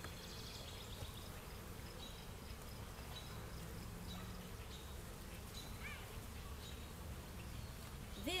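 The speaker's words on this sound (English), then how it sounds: "the bees come up underneath and sip a little bit of nectar right along the top" Honeybees buzzing around a newly installed hive, a continuous low drone from many insects close by, steady throughout with a few faint birds far in the background.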